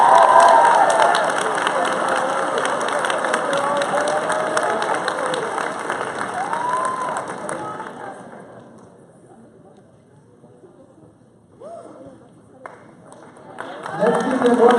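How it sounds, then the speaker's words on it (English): Dense, sustained applause and crowd noise from a high school senior walk ceremony honoring National Merit Scholars, loud for about eight seconds, then fading to a quieter lull before rising again near the end. "Let's give them one more round of applause for our National Merit Scholars"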